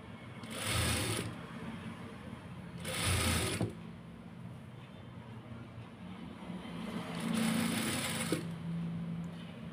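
A sewing machine stitches lace onto a garment in three bursts of rapid, whirring mechanical clatter, each lasting about a second, separated by a steady, quieter hum and rustling fabric, close up.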